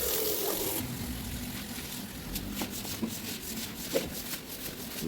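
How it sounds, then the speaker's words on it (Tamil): A stiff floor brush scrubs a wet floor with water, a continuous gritty rubbing wash with occasional louder knocks and splashes, steady and close with no voices. "அந்த ரவுண்டில் தான் கொஞ்சம் தேய்ச்சி கழுவ வேண்டியிருக்கும், அதில் தான் எல்லா மண்ணும் போய் சேரும்."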